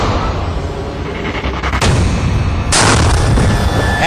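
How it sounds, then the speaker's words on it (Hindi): A military demonstration of an IED explosion hidden in a bicycle propped against a pole, heard as loud, continuous rumbling blasts with two sharper bursts, dense and close, with no voices. "इस साइकिल धमाके के लिए आईईडी का इस्तेमाल किया गया"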